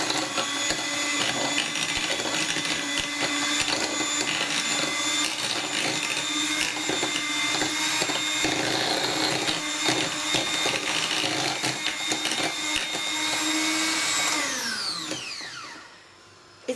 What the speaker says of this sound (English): It's much easier to use an electric whisk.